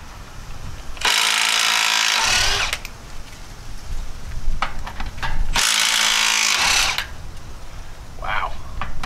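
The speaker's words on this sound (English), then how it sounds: "I don't know if this little half-inch stubby is going to get them off, but we'll try." A half-inch stubby ratchet works loose old lug nuts on a C10 Stepside truck wheel, two loud rapid clicking bursts of about a second and a half each, with scattered clanks between.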